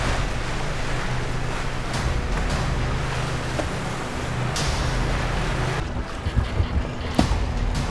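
Big racing sailboats get underway at the start of a Rolex Big Boat Series race, with constant wind rush and wave wash around the hull and a few knocks near the end.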